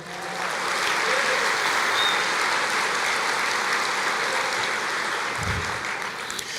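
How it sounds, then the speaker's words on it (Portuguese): Church congregation applauding together, a dense sustained wash of clapping that swells quickly and holds steady for several seconds, filling a reverberant worship space. "Você pode aplaudir o Senhor?"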